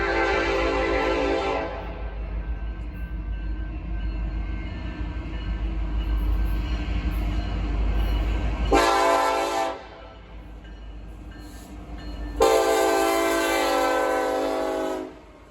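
An auto rack freight train rumbles past steadily and loudly, its horn blaring in long blasts that cut out and return.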